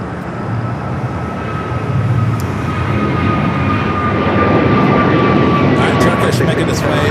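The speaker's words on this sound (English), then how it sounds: "The Dreamliner, 787-10 Dreamliner coming up from Amsterdam. First of two KLM flights here today, about to touch down." A KLM Boeing 787-10 Dreamliner arriving from Amsterdam comes in to land, its engine roar a steady, broad rumble that swells slightly and holds loud throughout, with a faint high whine running over it.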